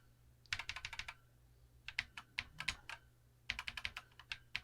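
Keys tapped on a BBC Master computer keyboard, bursts of quick clicky keystrokes in three short runs with pauses between, close and fairly quiet.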